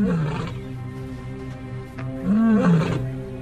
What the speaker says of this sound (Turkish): Çağrılarına cevap veriyorlar.